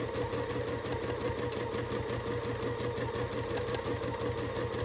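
A sewing machine stitching steadily during free-motion quilting, a fast, even mechanical whir and tick that runs continuously and close, with no talking.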